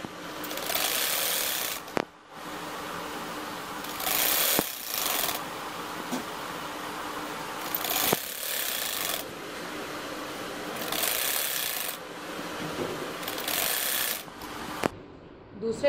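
A sewing machine stitches a second seam along the upper fabric strip of a poncha (trouser hem) design, running in several bursts with brief pauses between them.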